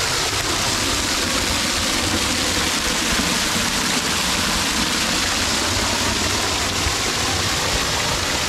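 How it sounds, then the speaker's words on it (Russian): Waterfall at Ladoga on a high-water day: a dense, loud, steady roar of falling water fills the whole clip, close and unbroken, with no voices. "А если зайти под водопад?"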